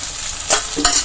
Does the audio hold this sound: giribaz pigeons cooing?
no